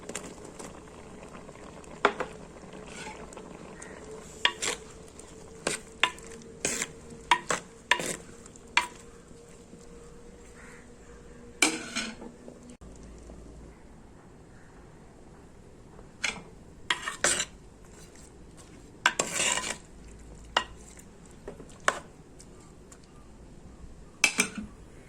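Mango pieces drop into a simmering curry pot of jackfruit seed, prawn, green mango and drumstick, followed by scattered clinks and scrapes of stirring over a steady bubbling boil, no voices.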